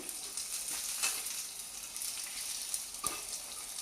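Garlic crackles and sizzles steadily in hot oil in a pan, a soft, continuous frying hiss with occasional pops.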